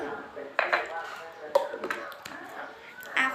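Corn being stirred with a spoon in a pot for a sweet corn dish, producing irregular clinks and scrapes of metal against the pot. Someone talks over the stirring the whole time.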